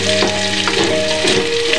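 Onion sautéing in a hot pan for stir-fried fresh pancit, a steady close sizzle and crackle of frying with a few stirring scrapes, no talking.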